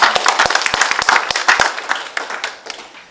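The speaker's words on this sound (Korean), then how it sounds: "박지원 학생한테 다시 한번 격려의 박수 주목해 부탁드립니다" Audience applause at a youth symposium on national unification, with distinct individual claps standing out in a crowded burst that thins and fades over about three seconds.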